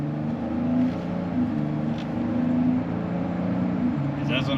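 A Cadillac XT6 fitted with an AFM disabler cruises onto a 55 mph main road, its engine giving a steady, close, low droning hum with faint road noise throughout.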